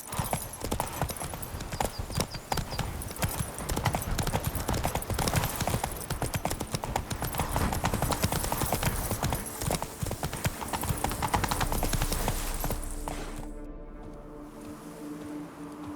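Horse galloping in The Witcher 3 video game, a steady, close, rapid drumming of hooves that runs for most of the stretch before slowing and fading near the end.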